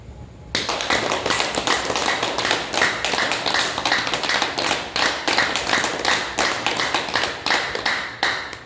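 Hands clap sharply and loudly in a fast, steady rhythm, dozens of crisp claps in a row after a brief quiet start.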